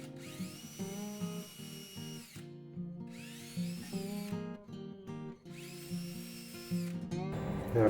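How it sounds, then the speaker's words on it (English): A power drill pre-drills screw holes through plexiglass into wood while a dog bank is built, whining in three long bursts that rise in pitch as the motor spins up, separated by brief pauses, close and loud with no talk. "you want to pre-drill with whatever screws you have"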